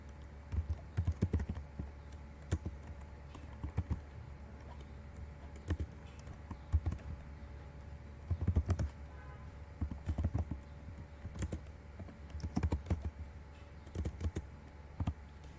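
Code being typed on a computer keyboard during a linear search tutorial, heard as irregular bursts of clicking keystrokes at close range over a steady low hum, with pauses between flurries.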